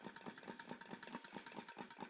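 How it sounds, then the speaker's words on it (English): A small candle-heated Stirling engine runs at about 140 to 150 RPM, making a quick, even, mechanical ticking and whirring rhythm that repeats steadily. It is close and quiet, and no one speaks. "Let's go ahead and start her up. That's running about 140, 150 RPM."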